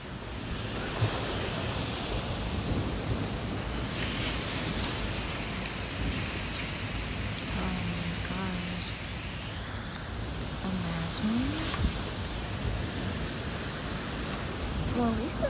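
Rain falling outside a store, a steady broadband hiss of downpour filling the scene throughout, with faint voices and a few small knocks beneath it.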